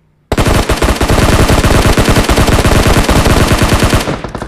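Automatic gunfire in the PUBG Mobile video game rattles out as a loud, sustained burst of rapid shots lasting about four seconds, then cuts off abruptly.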